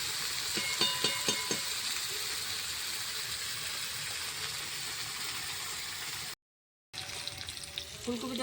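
Cauliflower fries in oil in a pan with whole chillies and turmeric, giving a continuous sizzling hiss with a few bubbling crackles early on, close and steady before a brief cut.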